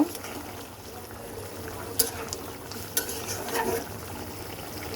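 Cumin powder being stirred into a hilsa fish curry with potatoes, a soft continuous scrape and simmering texture with a few sharper spoon clicks against the pan, close and steady.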